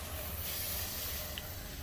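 A continuous close hiss of chain cleaner sprayed from an aerosol can onto a Honda CB250 cafe racer's chain, steady and fairly loud, lasting under two seconds.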